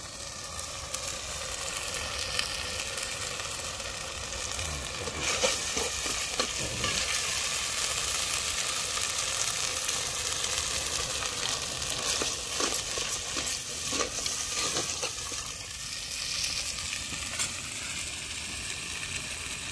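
A spoon stirs chicken masala frying in a clay pot for village-style matihandi chicken, a soft steady sizzle broken by scraping strokes and a few clinks, close up and quiet with no talk.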